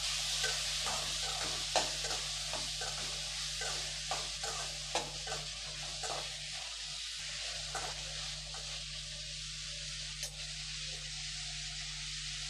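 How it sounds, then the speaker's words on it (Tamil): Chopped ripe tomatoes and spices sautéing in a pan for a country chicken curry, a steady sizzle and fry under repeated stirring scrapes, moderately close, with no talking. "எல்லாத்தையும் சேர்த்து நல்லா வதக்கி விட்டுக்கணும்"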